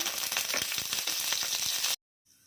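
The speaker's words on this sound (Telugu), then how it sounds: "కరివేపాకు వేసి వేయించుకోవాలి" Curry leaves and dals frying in hot oil for tempering, a loud, dense crackling sizzle for about two seconds that then cuts off abruptly to near silence.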